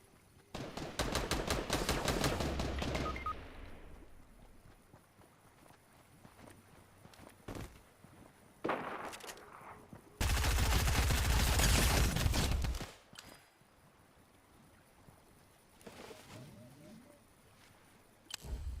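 Fortnite gunfire rattles in two long, loud bursts of rapid automatic shots separated by quieter gaps with scattered single shots and footstep-like sounds.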